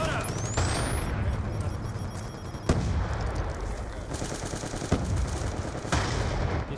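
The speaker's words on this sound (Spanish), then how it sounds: "Se me van los disparos para todas partes, tío." Automatic weapon fire in the video game Black Ops 2 rattles in dense, sustained bursts with heavy individual shots cutting through, loud and close throughout.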